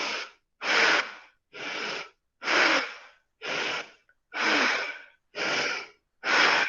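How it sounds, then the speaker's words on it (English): Bhastrika yoga breathing, belly pumped in and out, heard as eight forceful, breathy rushes of air in a steady rhythm about once per second, close and loud with short silences between. "moving the belly in and out and doing the full Bhastrika breathing"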